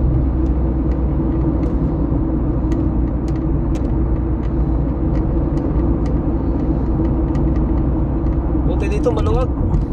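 A car's engine and road noise on the way to Dubai Mall hum as a steady low rumble from inside the cabin, with a person talking throughout over the constant drone.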